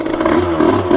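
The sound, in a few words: Bidalot 50WR 50cc motorcycle engine revving high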